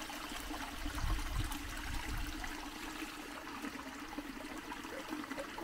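Soft, steady rush of spring water flowing from a qanat into a creek, faint and fairly distant, with a gentle trickling texture and no voices.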